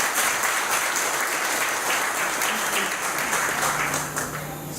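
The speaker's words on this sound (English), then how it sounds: "Please give him a round of applause." Audience applause fills a community meeting at the Negril Community Centre, a dense, continuous clapping that holds loud for nearly five seconds before tapering slightly.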